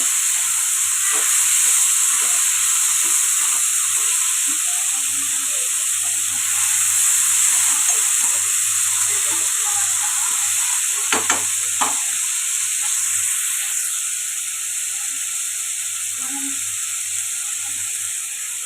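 Onions and tomatoes frying in oil in a pan for paneer masala curry give a steady, close sizzle with occasional stirring clicks and scrapes, heard alone without talk.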